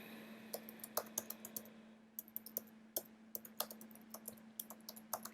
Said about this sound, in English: For the website URL, I'm just going to type in